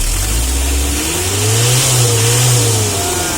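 A loud Mitsubishi L300 van engine revs up, pitch climbing and holding high, then easing slightly, heard close and alone.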